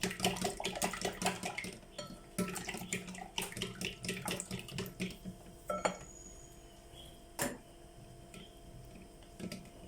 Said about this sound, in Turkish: şöyle iyicene çırpalım yoğurdumuzu